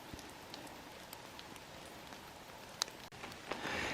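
Rain falling steadily in a pine forest in the woods, a soft continuous patter on the surrounding surfaces with occasional sharper drops standing out.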